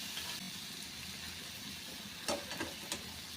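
Green chilies sizzle as they are sautéed in a pan while making a brinjal bharta. A steady, fairly soft frying hiss runs throughout, with a few brief clicks and pops near the end.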